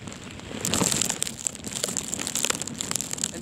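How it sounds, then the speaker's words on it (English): Freezing rain and sleet from a blizzard with 50 mph winds in the Bronx, New York, a steady close crackling patter of icy pellets hitting surfaces, loud and continuous with gusty wind underneath and no talking. "Freezing rain now."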